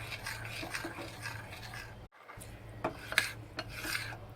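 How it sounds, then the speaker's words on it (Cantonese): Oil is stirred into batter for deep-fried oysters: steady, close, rhythmic scraping and rubbing strokes against a bowl, with a short pause midway and no talking. "咁我哋而家就慢慢將佢拌勻"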